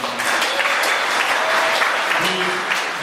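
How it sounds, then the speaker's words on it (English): Crowd at an outdoor political barbecue applauding a newly elected Member of Parliament: dense, sustained clapping, loud and even throughout with no talk over it. "can we get a round of applause for our newly elected Member of Parliament, Adam Vaughan again."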